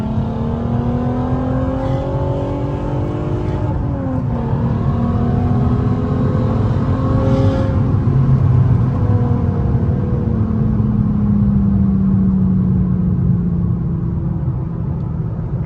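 A Volkswagen Golf 5 R32 with an F-Town Agressor 3.5-inch exhaust accelerates hard to overtake, its engine note rising loud and close in a sustained rumbling growl with a brief gear-change dip, no talk over it.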